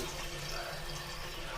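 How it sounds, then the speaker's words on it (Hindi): Water rushes steadily through a newly installed Jaquar wall-hung commode, running with the flush plate not yet fitted, a continuous close-up wash with no voices. "इसको देख सकते हैं पानी चालू हो गया"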